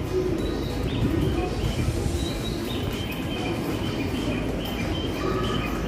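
A train to Toride pulling into a busy Tokyo platform, a continuous low rumble of rolling wheels with faint high squeals and rattles, steady and fairly loud, with no speech.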